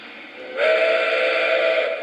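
A model train's railroad crossing signal starts after a low hum and holds one continuous, fairly loud electronic tone to the end, with no speech.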